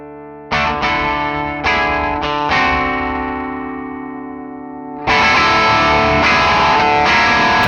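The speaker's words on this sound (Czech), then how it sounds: "Tady je slyšet, že zkreslení je krásně použitelný, i když je úplně na maximum" Electric guitar played through a Dirty B Hinds Mastodrive overdrive pedal with the distortion at maximum: loud, saturated sustained chords struck a few times, ringing out, then a denser, harsher strummed section, with no talk.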